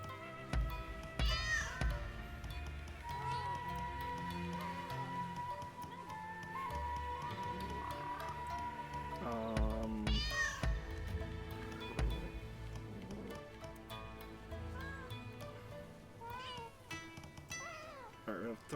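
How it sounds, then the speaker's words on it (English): Cats meow several times in the Rise of the Ronin video game, short rising cries that come in brief clusters over a steady bed of game music and ambience. "Because first off, we can send out cats."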